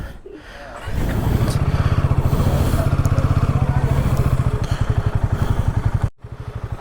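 Motorcycle engine running steadily on a Ladakh bike trip near Srinagar in light rain, a loud close pulsing thrum with fast regular firing beats that starts after a second and cuts briefly near the end.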